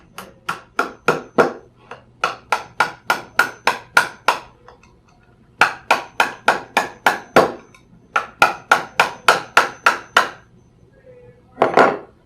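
A hammer taps a small finishing nail into a wooden picture frame in quick, sharp bursts of strikes, four rapid groups separated by short pauses, close and clear with no voices.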